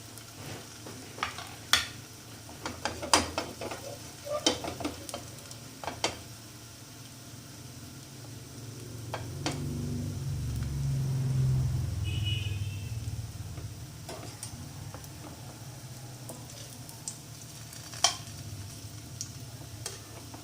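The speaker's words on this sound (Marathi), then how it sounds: "छान सोनेरी कलर येईपर्यंत त्याला फ्राय करून घ्यायचं." Potato dahi vada balls frying in a small amount of oil in a pan, a soft steady sizzle with scattered crackles and pops, swelling briefly louder midway, no voices.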